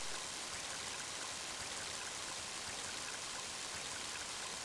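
Rain in the video game Mother 3, a dense, even hiss of steady rainfall that continues without a break, with no talk.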